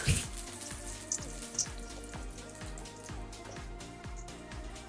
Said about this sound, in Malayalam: ലൈക്ക് കുറച്ചൊന്ന് പൊരിച്ചിട്ട് എടുക്കാം.